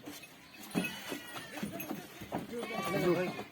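Several goats bleat while they are being loaded into a vehicle for Sikar; the wavering calls sound close and moderately loud, mixed with people talking nearby.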